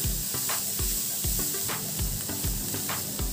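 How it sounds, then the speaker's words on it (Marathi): Vegetables for veg momos being stir-fried in a pan give a steady, close hiss of sizzling, with regular spoon strokes scraping and tapping about twice a second throughout. "एक साधारण 2 ते 3 मिनिटे आपण हे व्यवस्थित छान परतून घेणार आहोत।"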